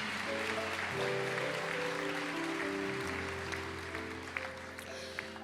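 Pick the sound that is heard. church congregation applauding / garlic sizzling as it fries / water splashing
church congregation applauding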